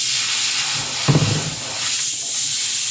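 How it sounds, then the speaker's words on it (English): Airbrush spraying in a steady, loud hiss while being flushed clean between acrylic and lacquer paints during painting of a 1/6 scale sculpted figure, with a brief soft thump partway through. "So I'll clean out my airbrush again."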